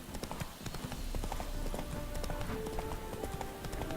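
Horse hooves clip-clop steadily and quickly on the ground in the video game The Witcher 3: Hearts of Stone, a dense continuous patter with faint tones underneath.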